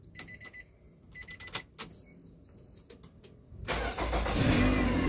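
A car engine is started after several clicks and small mechanical sounds, catching into a steady, rising idle rumble that fills the last second and a half.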